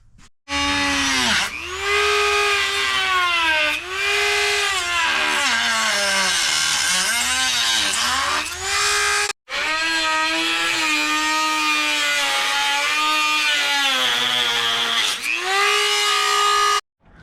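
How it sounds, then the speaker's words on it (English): A Dremel rotary tool fitted with a cutting blade slices into an aftermarket bumper on a Suzuki Grand Vitara 4x4, its loud, close, high-pitched whine rising and dipping with load across two long continuous cuts separated by a brief pause. "I think I'm going to try my Dremel with a like a blade on it."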